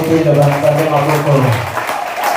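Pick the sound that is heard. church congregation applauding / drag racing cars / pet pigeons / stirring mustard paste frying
church congregation applauding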